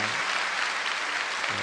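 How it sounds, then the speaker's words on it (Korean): A church congregation breaks into applause after a worship service, a brief, full burst of many people clapping together at close range. "오케이, 박수하겠습니다"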